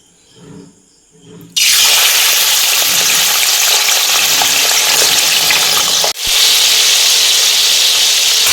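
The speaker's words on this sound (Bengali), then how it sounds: "তেল গরম হয়ে গেছে, এবার আমি চিকেনটা দিয়ে দিচ্ছি।" After a quiet moment, a loud burst of sizzling erupts as chicken hits hot oil in a pan, then continues as a dense, steady frying hiss with one brief dip.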